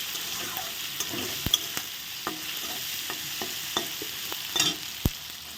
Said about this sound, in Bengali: মানে কাঁচা লঙ্কার একটা ভালো করে আমি ভেজে নেব